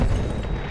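A deep, rumbling missile explosion in Battlefield 1 multiplayer, loud and close, with a heavy low boom that fills the brief moment.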